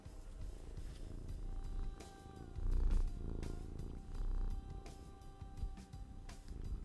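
A tiny brown cat purrs steadily and close, a low continuous rumble with a gentle rhythmic pulse carrying on throughout, faint clicks and rustles now and then.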